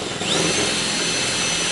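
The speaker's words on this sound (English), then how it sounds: "I'm going to drill it in reverse" A power drill runs in reverse into a finished PLA plastic part, a continuous close whirring grind with a brief rise as it spins up, holding steady to the end.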